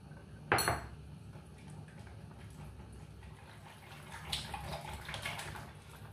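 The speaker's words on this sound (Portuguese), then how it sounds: "Agora vamos colocar o leite" About 200 ml of milk poured into a bowl of simple pancake batter in a home kitchen: a sharp clink of a utensil against the bowl, then a soft, steady liquid pour and faint splashing near the end.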